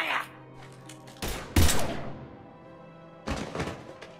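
Gunfire in the sci-fi shooter game Mass Effect 3, a few heavy thudding bursts with gaps between them, loud and close, over a low background hum.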